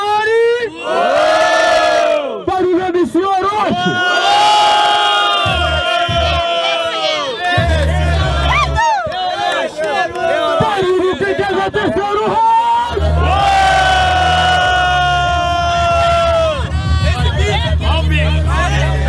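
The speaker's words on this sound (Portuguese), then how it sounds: "Barulho quem gostou da rima do MC Johnny." At a freestyle rap battle, a large crowd roars with cheers, whoops and shouts, loud and sustained in waves, while a host's amplified voice breaks through over the noise.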